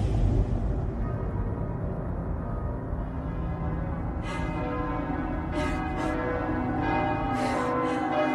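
Bells ring out in a series of bright, resonant strikes over a steady low rumble, growing more frequent toward the end.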